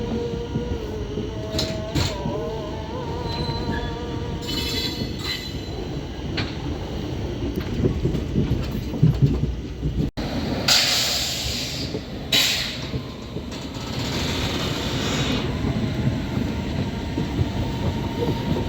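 A passenger train travelling from Dehradun toward Amritsar rumbles along steadily from on board, with clattering wheels, a few faint squeals and brief louder bursts part way through.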